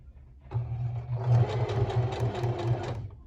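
A sewing machine stitches elastic to gather fabric, running as a steady, close mechanical whir for about three seconds after a brief soft start.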